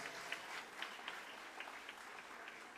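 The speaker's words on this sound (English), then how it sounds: "please give a big round of applause" Faint, distant applause from an audience at a school Independence Day ceremony, a soft continuous patter of clapping with no clear voices.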